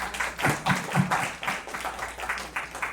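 Audience clapping at a women's smart and green cities summit; a moderate, rhythmic patter of hands with individual claps standing out, sustained throughout under a low hum.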